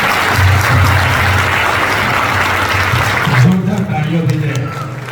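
An audience bursts into steady, dense applause that carries for several seconds and then tapers off as a voice begins speaking near the end.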